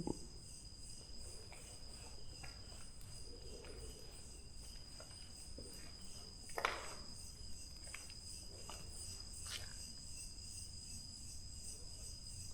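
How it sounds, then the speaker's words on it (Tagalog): Kuliglig insects trill at night in Cavite, Philippines, a steady high-pitched chorus that carries through the whole stretch, with a few faint rustles and soft bumps nearby. "Kuliglig."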